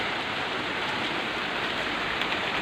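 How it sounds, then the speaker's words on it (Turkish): Heavy rain falling steadily, a dense, even hiss of drops on surfaces, loud and close with no pauses or voices. "Bayağı yağıyor. Sürekli yağıyor bu aralar."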